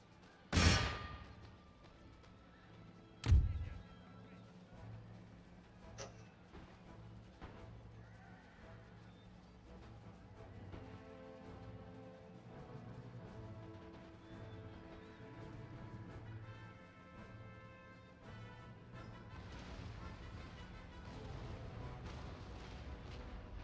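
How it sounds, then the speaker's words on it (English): Two heavy booms of cannon fire ring out early in the game Empire: Total War, followed by a low, busy battle din with faint music and distant noise. "Cannons doing their job."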